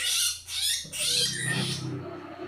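A wild-caught bird squawks loudly and harshly in repeated bursts, close up, with a brief dip before a longer struggling cry.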